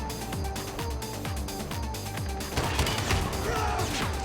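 NA-45 shots and blasts in the mobile game COD Mobile, a rapid string of punchy gunfire hits at moderate level, growing denser and louder about halfway through.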